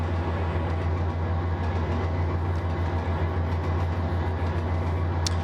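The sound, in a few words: train running in Trainz 22 video game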